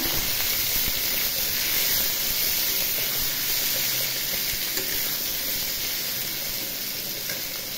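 Boiled potatoes fry in hot oil with black cumin seeds in a kadai for aloo posto, giving a steady, close, even sizzle that continues without pause and without speech.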